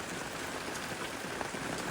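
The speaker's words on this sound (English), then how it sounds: "It's a nice rainy day in Pittsburgh." Steady rain on a wet morning in Pittsburgh makes a soft, even hiss with no breaks, quiet and continuous, with no voices.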